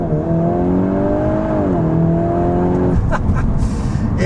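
A 2025 Volkswagen Golf R launching hard under launch control with a clutch dump from 4,000 rpm: a loud, close engine drone climbs steadily in pitch, dips briefly at a shift, then a rougher, noisier burst follows near the end.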